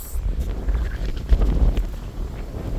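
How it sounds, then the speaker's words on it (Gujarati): Wind blowing outdoors near hills, low rumbling gusts buffeting the microphone in uneven waves throughout, fairly quiet with no speech. "બહુ મસ્ત પવન આવે છે"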